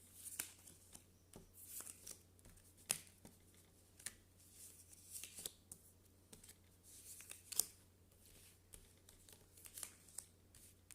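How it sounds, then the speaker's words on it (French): Tarot cards are cut and drawn by hand, giving a string of soft, close papery flicks, snaps and shuffles at an uneven pace over a low steady hum, with no talking. "je coupe. Et je tire, on remonte les cartes."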